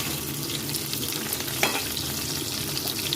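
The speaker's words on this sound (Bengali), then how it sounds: "মাছ ভাজা হচ্ছে" Fish fries in a pan with a dense, even sizzle held at a steady level, one brief louder crackle midway, and no talking.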